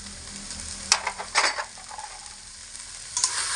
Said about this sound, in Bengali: ধনে পাতার সঙ্গে একটু ভালো করে মিশিয়ে নেব